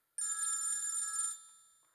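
A telephone bell rings in one continuous electronic burst of a little over a second in a quiet room, then fades out.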